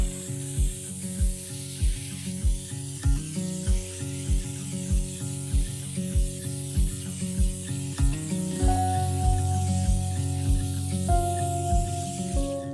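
Iron remover is sprayed onto gloss black car wheels, a steady close hiss with regular pulses over rhythmic background music.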